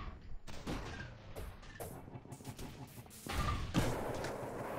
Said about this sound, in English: Oh, I can shoot missiles.